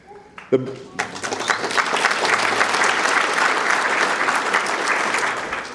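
A town ceremony audience breaks into applause after a short stretch of someone speaking, the clapping swelling quickly and staying loud and dense to the end.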